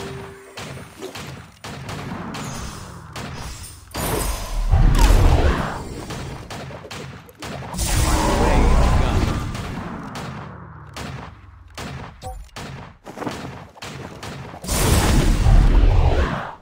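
Ringo's guns fire in bursts during a 5v5 Vainglory match, with heavy, thumping shots in several loud volleys between quieter stretches of game sound.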